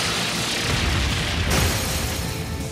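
Rionac weapon fired in Trails of Cold Steel 4, a sustained loud explosive blast with a sharper burst about halfway through, filling the whole moment without speech.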